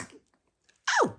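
A toddler girl's sneeze, a short sharp burst close to the mic after a brief exclamation, with soft household noises before it.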